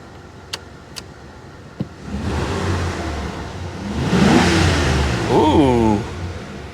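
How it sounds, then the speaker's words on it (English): A 1988 Mercury Cougar XR7 with a 5.0 V8 idles softly, then gets two rising revs of the engine close by, the second louder and sustained, with a few clicks beforehand. "Give her a little rev."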